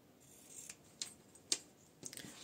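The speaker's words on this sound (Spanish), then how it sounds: "Le voy a cortar un poquito el excedente." Scissors trimming excess fabric from sewn trousers, with three or four quiet crisp snips close by in a hushed room and no talking.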